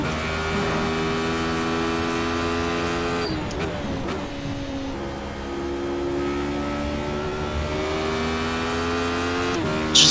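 A Radical race car engine in iRacing drones at steady high revs with strong tonal harmonics, dips sharply around a gear change, then holds a lower pitch before revving up again at the end, loud and continuous.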